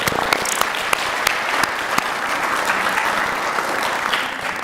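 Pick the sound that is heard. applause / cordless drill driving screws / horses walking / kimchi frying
applause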